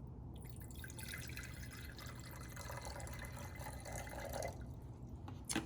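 Water is added to a sodium metal sample in a chemistry experiment, heard as a soft, continuous trickle and drip of liquid pouring close by, with no talk.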